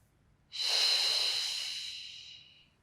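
One long, breathy exhale during a Pilates exercise rises sharply and then tapers off over about two seconds. It is close and soft, and nothing else is heard.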